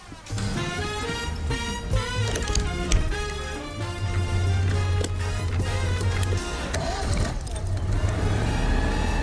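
A vintage Citroën 2CV pulls away on a tour of Lille, its small engine humming and rising as it drives off, with rattles and clunks in the cabin and a few background voice sounds.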